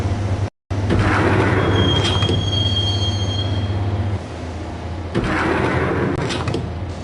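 A train in the video game Max Payne rolls along its rails with steady loud rumble, wheels squealing in sharp high whines, and a brief dropout near the start before the clatter continues unbroken.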